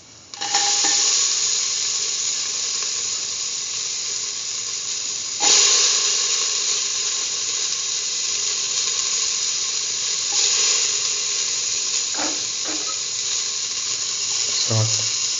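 Onion pieces sizzle steadily in a hot pan, a loud continuous hiss running throughout with a brief flare as they hit the oil, and a few light clinks near the end.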